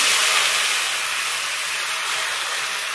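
Chukai greens with mustard seeds dropped into hot mustard oil give a loud, steady, hissing sizzle that carries evenly from start to finish, with no voices.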